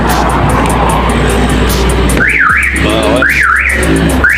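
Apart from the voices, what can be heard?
car alarm triggered by shock sensor test, Mitsubishi Montero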